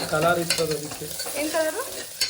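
Onion frying in a pan for chicken gravy, a brisk sizzle broken by stirring scrapes close by, with brief squeaky tonal sounds over the frying.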